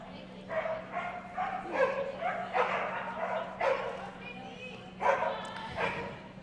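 A young dog yips and barks in repeated bursts at an AKC trial, fairly close, with a steady low hum underneath and no talking.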